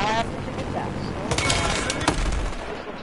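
Enemy gunfire in a shooter video game, bursts of rapid machine-gun fire and scattered shots cracking through the scene, mixed with speech.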